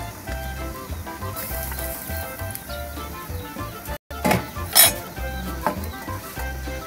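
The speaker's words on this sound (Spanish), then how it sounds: "Ya el caldito ya está hirviendo" Fish broth with pieces of mojarra bubbles and simmers in a pot, a steady close hiss and roil with a few clinks of a utensil stirring against the pot.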